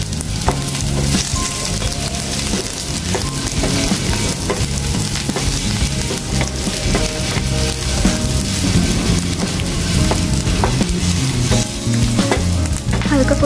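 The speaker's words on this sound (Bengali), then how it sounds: "দু মিনিটের মতো ভেজে নেব" Two tablespoons of chopped garlic sizzle steadily in hot oil in a pan, a loud and continuous fry that never lets up, with no voices over it.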